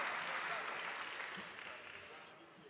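Audience applause at a 25th-anniversary ceremony of the Silesian Voivodeship regional government, a dense wash of clapping from a large crowd that starts full and slowly fades over a few seconds.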